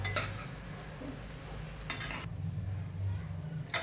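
Rice for fried rice is tossed slowly in a pan, with soft sizzling, scraping and occasional clinks of a spatula against the cookware, faint and close, with no voices.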